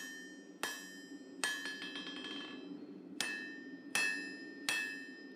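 Hammer forging mosaic Damascus steel for a Bowie knife: five sharp, ringing metallic blows spaced unevenly, each leaving a bright decaying ring, with a faint rapid patter of lighter taps after the second strike.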